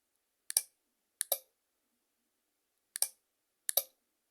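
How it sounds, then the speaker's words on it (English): Slight clicks from a phone receiver powered through a fork-and-folk block connector, heard in two close double-click pairs, crisp and fairly faint against silence. "If I press the button, you should hear, if I go quiet, a slight click"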